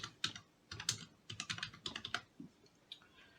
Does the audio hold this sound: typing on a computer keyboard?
yes